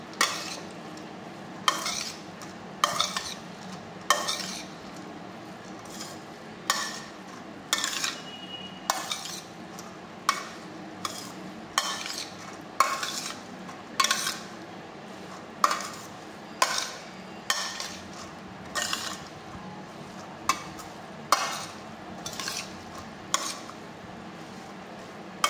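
Boiled moth beans are stirred and mixed with a spicy masala, a spoon scraping and clinking against the bowl in regular strokes with short pauses between them.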